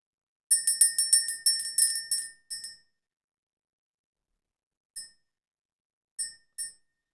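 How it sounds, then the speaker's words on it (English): A bell struck in a quick run of about a dozen bright, ringing tones with short decays, followed by a pause and three more isolated strikes, clear and close with no voices. "Let's ring the bell. Let's clear the energy."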